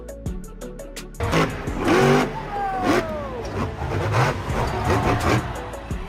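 Grave Digger monster truck engine roaring loudly at a show, rising and falling revs over a continuous crowd-filled din, with a commentator's voice talking throughout.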